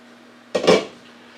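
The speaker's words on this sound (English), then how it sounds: "Give it a little stir." A single brief clink and scrape of a utensil against a pot while chicken broth is stirred, close and clear against a quiet background.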